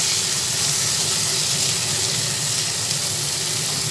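Onion, garlic, dried chili and tomato fry together in a pan, making a constant, dense hissing sizzle that stays level throughout, with no voices.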